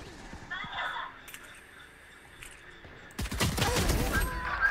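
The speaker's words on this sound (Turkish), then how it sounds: "Ayağından vurdum adamı." Gunfire in Valorant, a video game: a quiet stretch of game ambience, then a dense burst of rapid shots near the end, loud and close, with a voice speaking early on.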